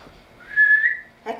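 A single clear whistled note rises and holds for about half a second, followed by a brief breathy sound.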